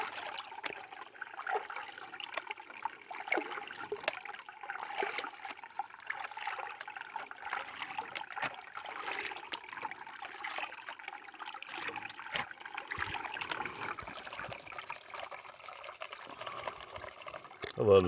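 Water sloshes and trickles steadily in a blue gold-panning pan outdoors at a forest stream, a continuous close wash of pouring and dribbling with small splashes.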